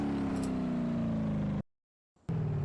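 Strained engine drone of a Scania truck hauling a 30-ton log trailer up a slope in BeamNG.drive, a steady low hum that cuts out abruptly, leaves a short silence, then resumes.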